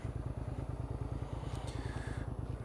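Motorcycle engine heard while riding at night, a close, steady, rhythmic pulsing throb that continues unbroken, with a faint whoosh of wind above it.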